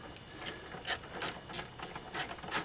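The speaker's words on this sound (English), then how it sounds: "Yep, it's definitely making a snapping noise" A 2006 Chevy HHR gives off quiet, repeated snapping clicks, about eight of them in a few seconds, each a short crisp ratchet-like tick over faint background noise.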